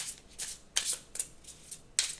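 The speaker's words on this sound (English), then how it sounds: "I'm gonna shuffle these really good because since they're new" Brand-new tarot cards are shuffled in short crisp bursts, about six riffling rustles in quick succession, close and fairly quiet with no talking.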